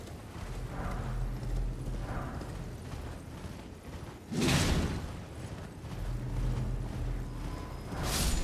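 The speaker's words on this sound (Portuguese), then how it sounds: "Ou são os passos do cavalo" Soft, steady horse hoof clopping in Elden Ring over a low ambient rumble, with a couple of louder whooshing bursts.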